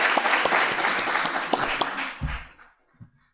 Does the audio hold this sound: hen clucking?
no